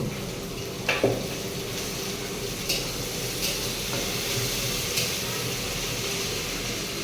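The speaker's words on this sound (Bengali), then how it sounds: "পেঁয়াজটাকে একটু লাল লাল করে নেব খুব সুন্দর করে তারপরে অ্যাড করে দিলাম টমেটো" Onion, tomato and coriander leaves fry in a pan, giving a soft continuous sizzle with a few light stirring knocks near the start, fairly quiet and without talk.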